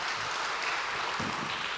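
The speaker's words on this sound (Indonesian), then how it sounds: "beri tepuk tangan yang meriah buat Tuhan" A church congregation claps at a service, a dense, steady wash of applause filling the short moment at an even level without voices.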